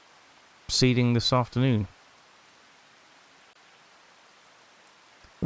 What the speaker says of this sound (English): The rain has disappeared off the forecast, but as you can tell, it's still falling from the sky.